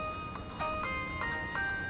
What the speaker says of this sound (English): I got some new ringtones for my phone.